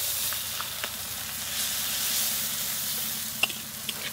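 Ground spice masala with turmeric and salt fries in oil for a shol fish curry, giving a close, even sizzle with occasional spoon taps and stirring clicks and no talking.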